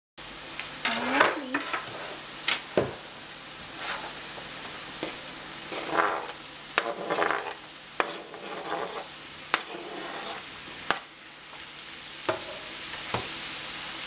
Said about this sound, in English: I am going to saute some corn and zucchini together.